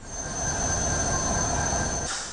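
A train at Kamalapur railway station rolls through with a loud, sustained high-pitched wheel squeal over a steady rumble, close and continuous, with no speech.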